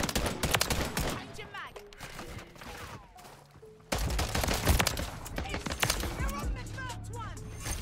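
Rapid bursts of KVD Enforcer gunfire in Modern Warfare 3, loud and close, with repeated volleys and a brief quieter lull before another intense stretch of shooting, alongside game effects.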